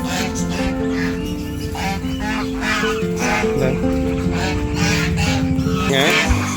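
Geese on a small home farm, loud close honking calls repeating over a busy mix of other fowl and birds, with a person talking at times underneath.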